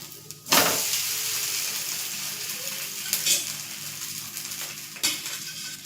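Farali dosa sizzling in oil on a pan, a steady close frying hiss with a few louder bursts as it is turned or oil is added.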